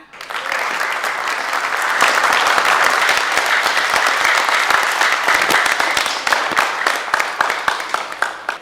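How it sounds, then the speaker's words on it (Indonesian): Indoor audience applauding a company leader at an Indonesian evening event: dense, loud clapping that builds quickly and holds steady, thinning slightly toward the end, with faint voices beneath. "Kita beri tepuk tangan untuk Ibu Tiara."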